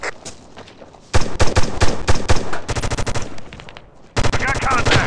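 Rapid bursts of automatic rifle fire in America's Army: Proving Grounds, loud and close, come in rhythmic volleys with a brief lull before another burst.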